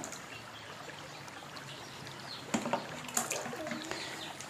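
Water is poured from a bucket onto a floor to wash it, making a low, steady wash. A couple of louder splashes come partway through, and no one talks.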